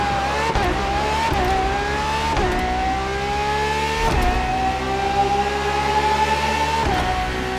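A Ferrari FXXK race car in The Crew Motorfest game revs hard, its loud engine note climbing and dropping repeatedly through gear changes in a steady, close, continuous roar.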